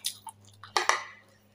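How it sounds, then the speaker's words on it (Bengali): Someone eats rice with mashed potato and mashed papaya close to the microphone, making a few soft, wet chewing and crunching bursts over a faint steady hum, with no talking. "আমি ভাত খাচ্ছি, আলু ভর্তা দিয়ে আর পেঁপে ভর্তা দিয়ে ভাত খাচ্ছি।"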